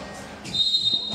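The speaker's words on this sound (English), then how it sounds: "And foul whistle on Bursac." A referee's whistle blows once, sharp and steady, to call a foul at a 3x3 basketball game, shrill and moderately close over faint arena noise.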